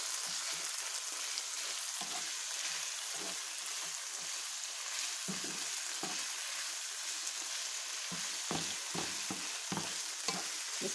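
Chicken and turkey sausage mix sizzles steadily in a frying pan while a utensil stirs it, scraping and clacking in irregular close bursts over the constant hiss of frying.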